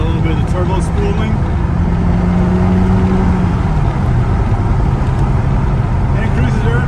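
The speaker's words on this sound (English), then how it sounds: "You can hear a little bit of the turbo spooling." A 1987 Lotus Esprit Turbo under way on the road, heard from the passenger seat: steady loud engine and road drone with a faint rising turbo whine, someone talking over it.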